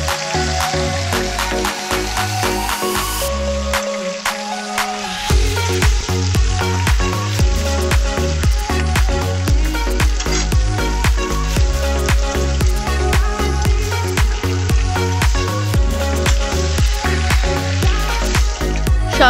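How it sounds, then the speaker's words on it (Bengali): Giant freshwater prawns fry in hot mustard oil with a loud, steady sizzle that runs the whole time, marked by regular crackling pops and a brief dip early on. "তেল গরম হয়ে গেলে গলদা চিংড়িগুলোকে ভালোভাবে ভেজে নিন"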